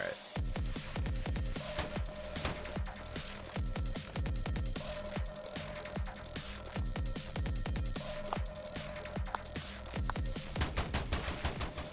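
Sustained video game gunfire from a double-barrel shotgun and a Tommy gun in Tower Unite, sharp repeated shots in a steady, dense stream of bursts lasting throughout, loud and close.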